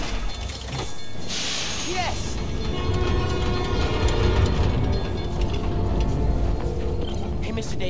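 A New York subway train in the Spider-Man: Miles Morales video game rumbles and clatters loudly and steadily along the rails, with a brief high squeal near the start and voices talking beneath it.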